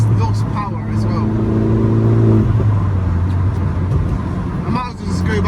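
A Vauxhall Corsa VXR in limp mode with lost power gives a steady, strained engine drone that rises in pitch and falls away, heard from inside the car, while someone talks over it the whole time.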